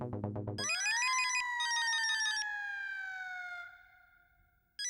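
A ringtone-style electronic melody plays while a phone call is placed, starting with rapid pulsing notes and then sliding into long gliding tones that fade out before a sharp burst at the end.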